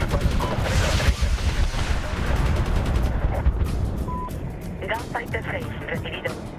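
Gunfire in the video game Medal of Honor 2010, dense loud rattling shots and rumbling battle noise under a man's radio-style voice, thinning out into scattered sharper cracks toward the end.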